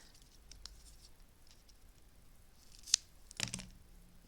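Scissors snip dimensional adhesive foam pads in half for card making, giving a couple of short, crisp cuts near the end of an otherwise quiet stretch.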